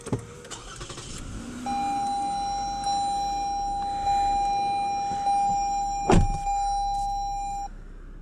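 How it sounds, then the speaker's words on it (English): A 2016 Lexus ES350 unlocks with a brief chirp and then its engine starts, a steady hum and a long electronic tone running through the cabin, with one loud burst partway through. "So we'll go ahead and unlock it, and we will start it up."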